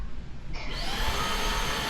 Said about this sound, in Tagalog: So test po natin siya sa vacuum.